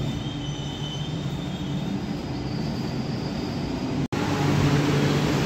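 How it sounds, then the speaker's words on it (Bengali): Kolkata Metro train at Noapara station: a steady loud rumble of railcars with thin high wheel squeal, briefly cut and resuming near the end, no voices. "এই ট্রেন থেকে নামলাম।"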